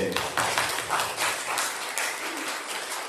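Korean church congregation applauding the choir during a Sunday service, a thick, continuous wash of many hands clapping together, moderately loud and sustained for several seconds without speech.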